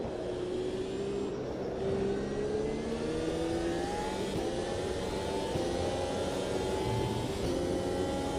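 F1 car engines in the F1 2025 video game at the British GP whine steadily with rising pitch as cars pass under blue flags, continuous and loud with no talk.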